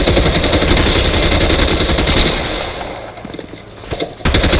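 Rapid automatic gunfire from the video game Fortnite, loud and dense for about two seconds, then thinning into scattered shots and quieter game sounds before a final burst of firing at the end.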